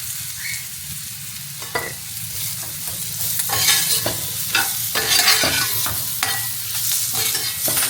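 Dried fish (karuvaadu) fries in hot oil with curry leaves, giving a loud, continuous sizzle with bursts of crackling and spatter as the pan is stirred. No one speaks.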